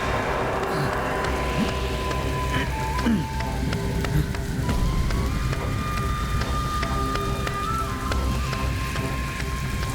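Steady rain falls hard and close, a continuous dense hiss of drops on surfaces that keeps an even loudness throughout. Tonal music plays softly underneath the rain.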